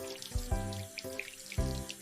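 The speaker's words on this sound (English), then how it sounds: "I stand at the sink. I turn on the water." A sink tap runs with a steady splash of water, broken by a few low, rhythmic thuds and clunks as the flow shifts. Close and moderately loud, with no talking.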